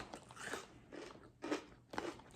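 Trader Joe's ghost pepper lattice chips crunch loudly between the teeth in several close, crackling bites separated by short pauses, with no talking.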